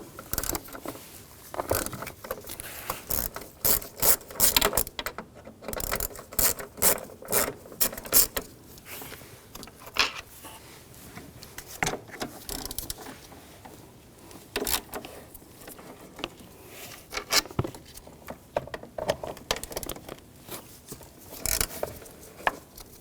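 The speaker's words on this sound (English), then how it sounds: "Use a 10mm socket. Take these bolts out." A 10mm socket ratchet backing out battery tray bolts on a Volkswagen Jetta, with bursts of rapid pawl clicking, some metallic clinks and handling noise, close up and repeated over a long stretch without speech.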